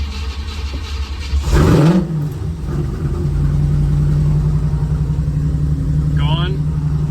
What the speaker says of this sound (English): that sounds like a stronger idle to me